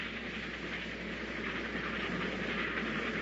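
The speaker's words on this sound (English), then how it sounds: "There's that train again, Pat." A train approaches in a radio drama scene, a steady broad rumbling roar with faint clickety-clack and hiss, holding loud and continuous throughout.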